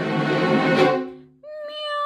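A cat meows twice: a long, loud, drawn-out cry that fades, then a shorter, higher meow right after, close by with no talking.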